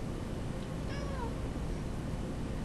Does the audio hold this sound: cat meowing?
yes